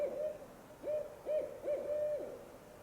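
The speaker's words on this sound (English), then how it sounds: "owl. Weird." An owl hoots several times in a spring forest during a bear hunt: four or five low, even calls in an irregular rhythm, moderately distant and clear over a quiet background, with no talking.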